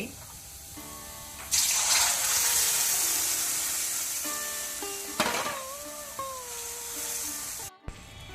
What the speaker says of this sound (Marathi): 4-5 लसणीच्यो गोयो बारीक मिन्स करून ताका घालच्यो. उजो सिम्माचेर दवरून तिक्केशे भाजया.